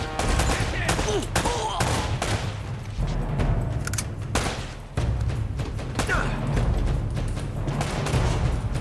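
Rapid gunfire crackles through a firefight in Uncharted: The Nathan Drake Collection on PS4, dense overlapping shots and bursts with booming low impacts, loud and continuous throughout.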